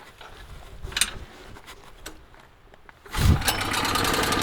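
A $299 CAD 3550-watt RV generator pulled once and catching, a few faint knocks and rattles before the engine bursts into a loud, steady running roar close by.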